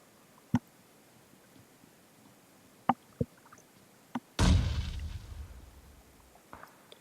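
A grenade explosion in a battle-royale video game, a single heavy boom that rolls off over a couple of seconds, preceded by a few sharp isolated cracks of gunfire over a quiet background.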